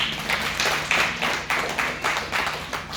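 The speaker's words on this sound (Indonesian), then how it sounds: "Tepuk tangan buat Tuhan kita." Congregation in a church clapping their hands, a steady crowd patter with recurring louder swells of rhythmic claps over a few seconds, fairly close and full, with no voices on top.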